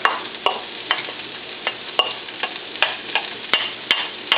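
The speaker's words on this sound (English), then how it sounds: "What I've got is 1 red onion diced. So add that in." Diced red onion sizzles in a hot pan, a steady close frying hiss punctuated by about a dozen evenly spaced sharp stirring clicks of a utensil against the pan, with no talking.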